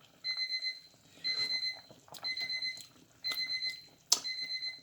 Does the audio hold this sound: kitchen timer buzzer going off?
yes